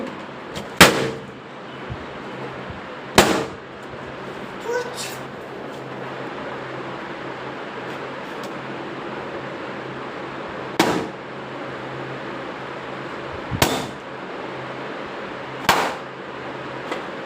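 Balloons in a room pop one at a time, six sharp loud bangs spaced a few seconds apart over quiet background noise.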